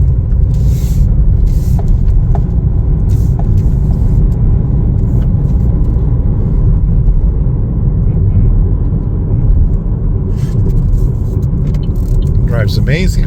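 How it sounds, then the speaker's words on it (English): Cabin of a 2021 Chevrolet Trailblazer LS with a turbo three-cylinder engine on a test drive, a loud steady low rumble of engine and road noise, with people talking throughout. "Okay, we're all set to take it for a little test drive here."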